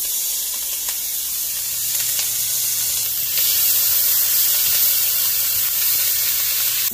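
Ginger garlic paste fries in a pan with onions, giving off a steady, bright sizzle and hiss that stays loud and even throughout, with no talking.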